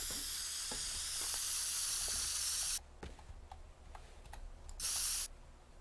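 Spray can hissing in the destruction game Teardown: a long steady loud hiss, a pause with small clicks and taps, then another short burst of spray, no talk.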